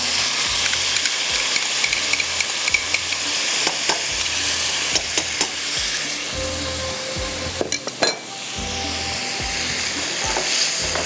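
Mutton with yogurt, onion, tomato, coriander and ginger frying over high flame gives a loud, bright sizzle broken by repeated sharp clanks and scrapes of a spoon stirring in the pot.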